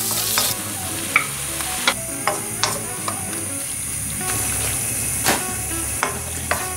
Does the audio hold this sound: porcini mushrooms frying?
yes